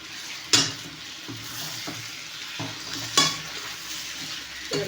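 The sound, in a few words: tomato thokku sautéing in a pan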